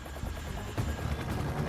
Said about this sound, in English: Tapper lifts off in the new Chinook for the first of the day's missions